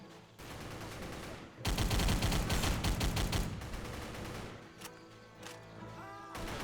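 Rapid machine gun bursts in the Xbox 360 shooter Battle for the Pacific, a loud dense volley of rattling shots after a quieter opening, then scattered gunfire and background battle noise; no talking.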